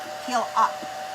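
Hair dryer blowing steadily at close range to dry a decoupaged napkin on a Dollar Tree spring craft sign, a continuous whirring airflow with slight shifts in pitch as it moves.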